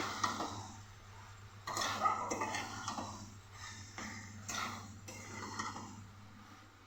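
Spoon scraping and clinking in a pan as a cashew and poppy seed paste is stirred for a Bengali dudh posto, a steady run of close, moderately loud scrapes and taps with short pauses.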